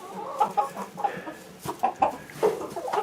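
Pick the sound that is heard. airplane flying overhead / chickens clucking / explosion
chickens clucking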